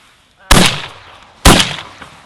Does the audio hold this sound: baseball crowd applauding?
no